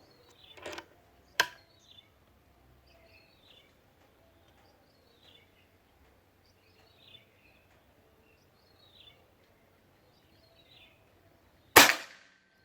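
A Bocap Pajero Gen 5 full-CNC PCP air gun with a sonokeling stock fires its last shot: one loud, sharp crack near the end, after a couple of earlier cracks, with faint birdsong chirping in the quiet stretches between.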